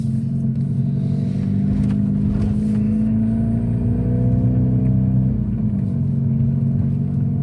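A Volkswagen Scirocco 1.4 TSI 160 PS with DSG and dual active chrome exhaust outlets, 60–61 mm pipes, idles with a steady deep low rumble, close and continuous, with slight swells in revs and no talk over it.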